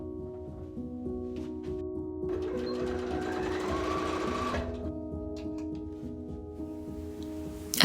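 Sewing machine stitching at a steady close whir, rising into a faster, louder run in the middle before easing back to a quieter hum, with no talking.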